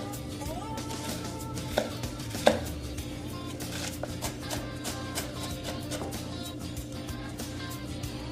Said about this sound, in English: I'm going to give it a little chop just to get the pieces just a little bit smaller